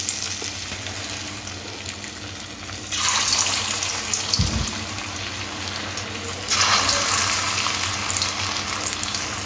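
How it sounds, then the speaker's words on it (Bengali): Potato popcorn pieces deep-frying in hot oil: a low crackle that swells into a louder, rushing bubbling sizzle as batches go in, then continues steadily up close, with no talking. "এই তেলের মধ্যে আজকের আমি আলুর পপকর্নগুলো বানিয়ে নেব"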